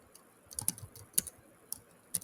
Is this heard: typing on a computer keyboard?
yes